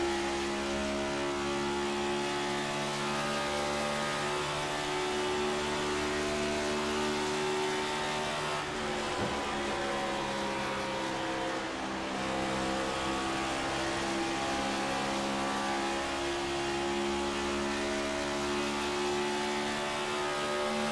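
NASCAR Next Gen Cup race cars race at Chicagoland in a dense, continuous roar of many engines at high revs, loud and sustained throughout with no break.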